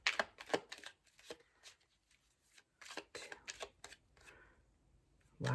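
Tarot cards are shuffled close by in quick, crisp bursts of riffling and flicking, separated by short pauses, fairly quiet and with no talking.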